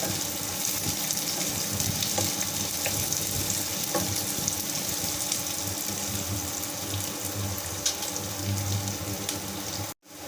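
Two green chilies frying in a pan with onions for jackfruit biryani, a steady close sizzle with faint stirring that runs without talk before a sharp knock and a sudden cut at the end.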